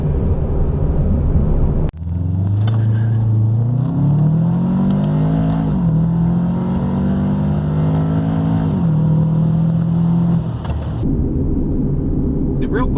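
Modified Subaru 2.5 turbo with a five-speed automatic accelerating hard, a loud steady engine drone climbing in pitch with a few distinct gear-shift dips, continuous and close.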